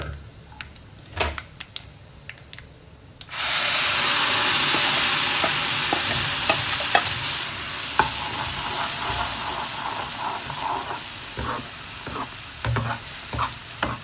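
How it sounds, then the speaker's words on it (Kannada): Ground spice paste frying in a pan for an okra buttermilk curry: after a few quiet seconds with light taps, a loud, dense sizzle bursts in and holds steady, gradually easing, with occasional clinks of a spoon stirring, close up and without talk. "ರುಬ್ಬಿರೋದ್ರಿಂದ ಹಸಿ ವಾಸನೆ ಇರುತ್ತೆ, ಪ್ಲಸ್ ಸ್ವಲ್ಪ ಘಾಟ್ ಕೂಡ ಇರುತ್ತೆ. ಅದು ಹೋಗೋವರೆಗೂ ಚೆನ್ನಾಗಿ ಫ್ರೈ ಮಾಡ್ಕೋಬೇಕು."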